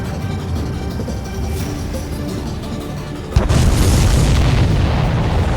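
A missile explosion in the video game Ace Combat 7 arrives as a sudden loud boom and crashing burst that then roars on steadily, following a stretch of quieter engine-like rumble, with no voices.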